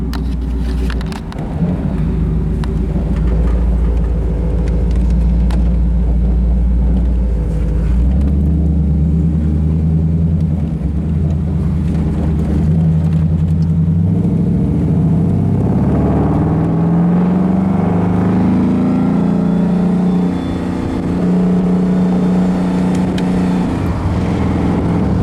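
A 1947 Ford Custom convertible out on a drive, its engine rumbling low and steady, then climbing through the gears as it accelerates, with road and wind noise rising over about twenty-five seconds.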